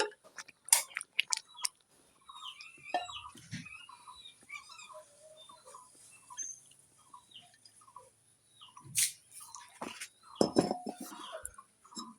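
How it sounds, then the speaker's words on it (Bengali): A large karai wok full of taro leaves cooked with hilsa fish head is lifted off a home stove, with scattered close metallic clinks, knocks and scrapes against a quiet background. "নামিয়ে নিচ্ছি কারাইটা অনেক বড় আমি এইভাবে নামিয়ে নেব ওটা"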